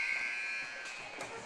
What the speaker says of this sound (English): The buzzer should be going.